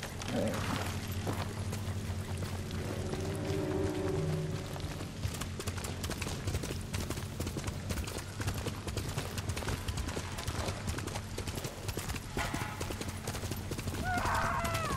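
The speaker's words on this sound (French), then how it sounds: "Descends de cheval!" Horse hooves clatter at a steady clip-clop gallop in the Ghost of Tsushima video game, set against a constant rumbling game soundscape with faint voices, a brief whinny and distant booms.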